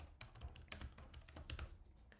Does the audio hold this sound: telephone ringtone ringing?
no